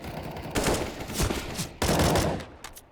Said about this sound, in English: MBR and Sis trading some bullets, bit of damage done onto both of them